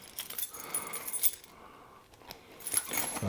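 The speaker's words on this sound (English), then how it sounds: "You've got a key ring holder, so that's pretty good. Let's go ahead and put our keys on there." A bunch of keys jingles and clinks as it is clipped onto the key ring holder inside a Lowepro Slingshot Edge 250AW sling bag, in short close metallic rattles with a quiet pause midway.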